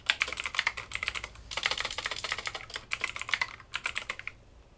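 Bursts of quick keystrokes clatter on a computer keyboard while a password is entered, close and fairly loud, in uneven runs separated by brief pauses, with no voices.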